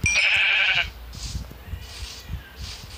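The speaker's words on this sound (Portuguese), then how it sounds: "tem muita ovelha" A sheep in the Minecraft video game lets out a single bright, wavering bleat up close, followed by soft scattered clicks and faint rustling game sounds.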